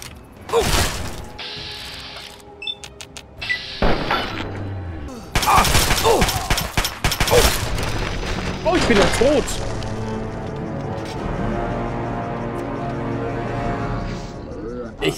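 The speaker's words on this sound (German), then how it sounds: "Hören Sie auf mich zu schießen!" Gunfire in Fallout 3 comes as sharp loud shots and bursts amid clanking mechanical game effects and debris, with someone speaking German over part of the sequence.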